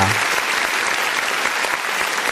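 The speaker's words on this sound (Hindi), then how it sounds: "जोरदार तालियों से स्वागत कीजिए" Loud, dense applause from a poetry-reading audience, continuous clapping that fills the whole stretch without a break.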